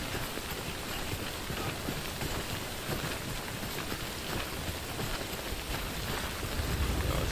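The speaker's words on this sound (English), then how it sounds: "When is it gonna stop raining?" Steady rainfall in the video game Death Stranding, a dense, even hiss of drops hitting the ground, continuous and close with no voices.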